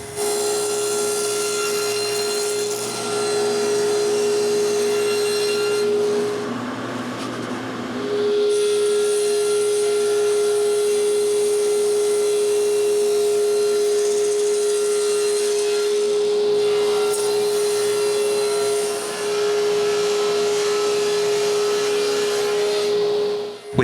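A power saw cuts solid pine frames to size for a pantry build, giving a loud, sustained whine that dips and roughens briefly partway through before returning to its steady pitch. No speech accompanies it.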